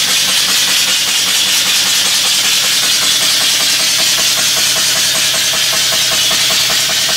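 A brand new live steam engine with a clutch and flywheel runs steadily and loudly, with a rapid, even chuffing and knocking beat under constant hissing steam, close up and without voices.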